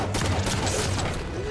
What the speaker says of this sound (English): Who's shooting them shots over there?